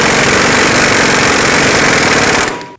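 An air impact tool runs down the front axle nut on a 2012-2019 Fiat 500 during a wheel bearing replacement, a loud, close, continuous rapid hammering that stops abruptly at the end.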